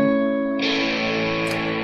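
A sustained, distorted electric guitar chord rings out loud and gritty, with a brief brighter accent near the end.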